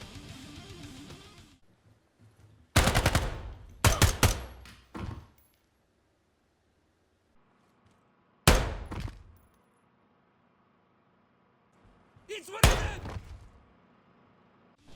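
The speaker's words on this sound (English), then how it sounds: "You will hear a very audible thud when the character hits the ground" Heavy thuds from a character's body hitting the ground in Ground Branch, several loud, sharp impacts arriving in separate bursts with silent gaps between them, each one brief and close.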